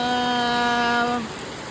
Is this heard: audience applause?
no